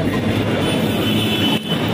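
Mumbai Metro train running on its line, a steady loud rumble and rush of wheels and motion that fills the whole stretch, with a brief dip near the end and no talking.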